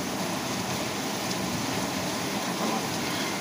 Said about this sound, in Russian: Ну как льет, прямой такой дождь.